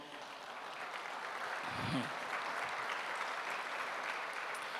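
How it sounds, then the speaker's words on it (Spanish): A congregation at a church service claps together in sustained, even applause, a dense patter filling the room for several seconds. "Colóquese en pie y denle un fuerte aplauso al Señor."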